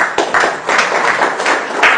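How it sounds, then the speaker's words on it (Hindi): An audience at a seminar claps steadily for two seconds, a dense, close patter of many hands with no break. "एक बार ताली होना चाहिए।"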